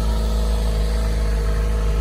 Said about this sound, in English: The gas engine just kicked on, in case you're wondering.